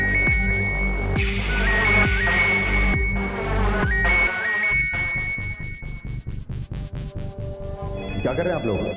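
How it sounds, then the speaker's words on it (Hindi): A loud electronic telephone ring repeating in a steady pattern, then shifting to a faster pulsing ringtone toward the end. "फोन आ गया।"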